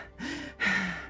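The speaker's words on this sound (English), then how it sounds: "You hear your breathing." Two quick, ragged breaths, a sharp gasping inhale followed by a heavier breathy exhale, close and alone in a quiet space.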